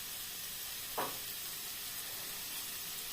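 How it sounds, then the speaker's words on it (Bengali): Onions frying in a pan for a dried fish curry make a constant, even sizzle, and a single soft stir or scrape cuts in briefly. No speech is heard. "এই যে পেঁয়াজটা ভাজা হয়ে গেছে"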